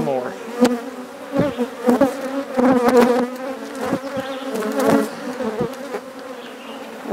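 Agitated honey bees swarm close around beekeepers during a hive transfer, a dense, loud, wavering buzz with individual insects zipping past.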